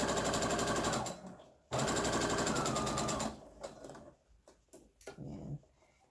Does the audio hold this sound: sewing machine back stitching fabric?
yes